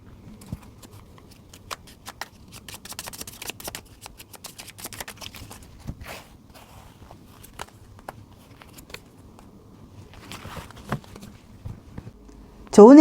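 Tarot cards are shuffled and handled for a reading, giving soft dry riffling and flicking across the clip, close and fairly quiet, with a brief louder noise at the very end.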